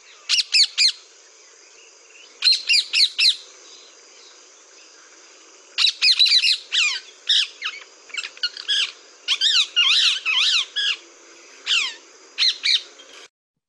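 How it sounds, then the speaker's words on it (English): Shrill, harsh squawking calls of a parakeet in rapid clusters and repeated bursts with short pauses, loud and close against a quiet background. "So this is what the parakeet sounds like."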